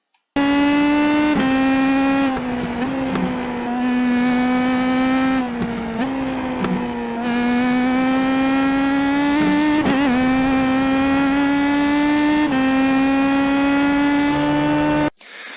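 IndyPro2000 open-wheel race car in the iRacing sim at Zandvoort, a loud, steady high-revving engine whine through repeated gear shifts and brief lifts through corners, running almost continuously before cutting off at the end.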